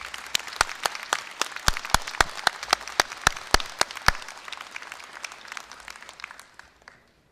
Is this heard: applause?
yes